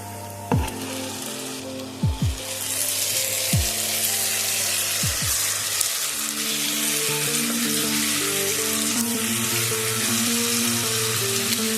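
Chicken pieces frying and sizzling in a pan, a steady loud sizzle that starts abruptly and holds throughout, with a few sharp clatters early on and no talking.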